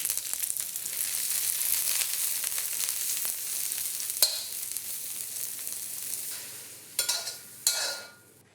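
Sliced mushrooms, green onions and minced garlic sizzle in hot oil in a pan, a steady close crackle with a few sharp scrapes and stirs near the end.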